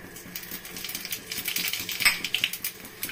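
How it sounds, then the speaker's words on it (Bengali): Cumin seeds splutter in hot oil with dried red chillies, cardamom and a cinnamon piece, crackling in quick, irregular bursts of close, bright pops that thicken toward the end. "এখন আমি জিরা সম্বারা দিব"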